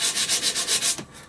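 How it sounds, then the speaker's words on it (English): Sandpaper rubbing by hand along the metal edges of a vintage hand plane being restored, about seven steady back-and-forth strokes in a quick rhythm, close and fairly loud, then a short fade. "Now, I'm sanding any exposed areas, such as the edges of the plane"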